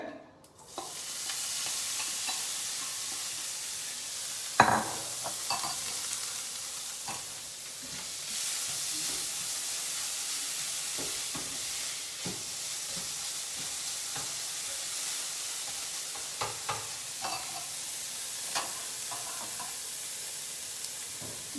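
Cumin seeds and crumbled Amul malai paneer frying in a pan, a long continuous sizzle and hiss broken by a sharp clatter near the start and intermittent spatula scrapes and taps.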